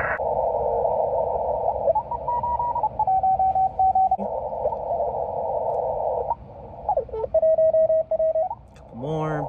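Morse code on a busy ham radio CW band, received on an apartment end-fed half-wave antenna: overlapping keyed tones of differing pitch beep in rapid rhythms over steady band noise, fairly loud throughout, with no talking.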